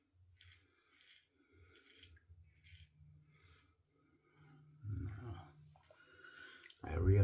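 A razor shaving stubble around the chin, quiet rasping scrapes in short repeated strokes, close and faint, with a louder rustle and bump near the end.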